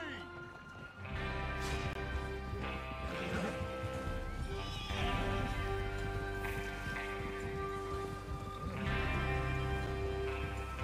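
Several horses whinny and neigh up close with clip-clopping hooves in a Red Dead Redemption 2 western outlaw scene, repeated calls over busy movement and low background activity, with speech mixed in.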